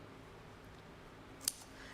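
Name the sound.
scissors snipping paper die-cut swirl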